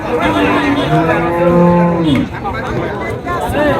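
Friesian cattle at a busy cattle market give a long, loud moo with a second bellow overlapping it, close by, then other moos follow over a background of crowd chatter.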